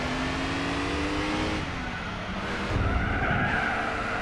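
A BMW Z4 in Gran Turismo 4 skids through a corner with a loud, continuous tire squeal over the straining engine, briefly easing before surging again near the end.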